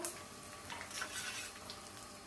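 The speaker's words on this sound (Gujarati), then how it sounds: "મુઠિયાનો વઘાર થઈ રહ્યો છે." Muthiya in a pan of tempering with mustard seeds, cumin and sesame seeds produce a faint, steady sizzle with soft crackling and light stirring scrapes, with no talking over it.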